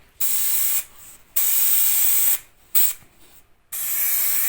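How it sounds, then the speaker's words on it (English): An aerosol can of spray adhesive hisses in four loud bursts of spraying onto a car seat, each lasting around a second, with short quiet pauses in between. "I've got some spray adhesive. I'm just going to spray around the edges there."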